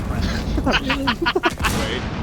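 Gunfire and grenade blasts in the video game Rainbow 6 Siege, a rapid cluster of sharp bursts over a busy background, with a voice shouting excitedly through the middle.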